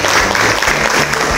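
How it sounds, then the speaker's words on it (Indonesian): Applause from a school group of students and teachers at SMP Negeri 2 Jatisrono, a steady dense clapping that fills the whole short stretch at close range. "tepuk tangan dulu"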